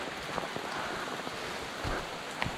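Steady rain falls in the Blue Mountains, a dense, even hiss of drops hitting surfaces nearby, with occasional louder individual splats.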